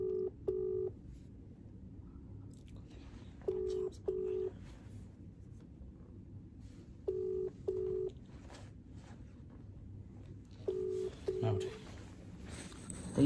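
Telephone on a call in a Bhojpuri setting repeats a paired ringback or dialing tone four times at steady intervals, moderately loud, with no answer and a low murmur of background noise throughout.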